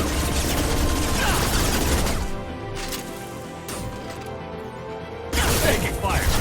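Gunfire in the 2010 PC action RPG Mass Effect 2, dense bursts and impacts that cut out briefly into a quieter stretch of game ambience, then return loud, with a voice heard among the shots.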